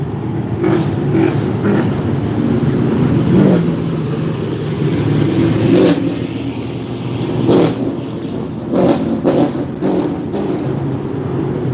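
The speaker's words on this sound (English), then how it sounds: "those cars have been going up and down Broadway all day long, and they're very, very loud" Loud cars cruise up and down Broadway during a car meetup, engines rumbling and revving in surges as vehicles pass at a moderate distance, with no talking.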